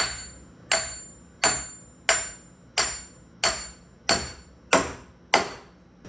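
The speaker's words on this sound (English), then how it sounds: "Let me tap it in with a hammer and see what we did." A hammer taps a snug part into a wooden treehouse yoke: nine sharp, evenly spaced strikes about two-thirds of a second apart, each ringing briefly before the next, close and alone with no talk.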